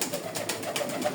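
Pigeons coo softly in a short burst from a home rooftop loft, a few low rounded calls over steady background hiss, with no talking.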